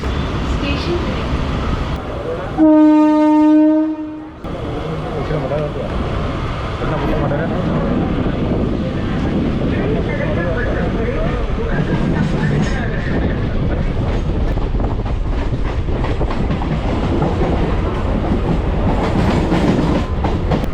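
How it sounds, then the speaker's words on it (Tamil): A goods export train runs along the rails near Chennai, giving a loud, continuous rumble and clatter of wagons throughout, with a brief steady horn-like tone early on. "இந்த எக்ஸ்போர்ட் ட்ரெயின் டிராவல் ஆயிட்டு இருக்கு"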